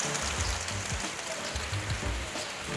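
Heavy rain pours steadily outdoors onto a balcony, a dense continuous hiss with scattered drops, with no speech.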